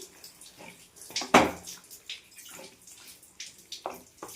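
A small cup of water is poured into a pan of simmering okra curry, giving one brief, fairly loud splash amid soft kitchen clatter.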